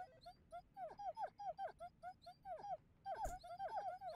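A video game dog in A Hat in Time gives a rapid run of high, yipping whimpers and little barks, steady and fairly close, with a brief louder burst near the end and no talking.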